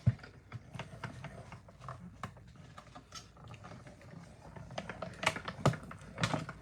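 A die-cutting machine cuts card stock for a handmade card, giving a quiet series of irregular mechanical clicks and ratcheting taps that continue steadily throughout.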